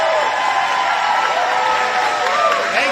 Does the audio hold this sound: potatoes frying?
no